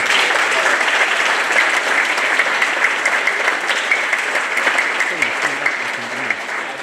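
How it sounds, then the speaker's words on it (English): A crowd applauds a national Poomsae champion, a master, at a taekwondo school's presentation and party. The clapping is loud and sustained, with a voice briefly audible near the end. "please give him a round of applause"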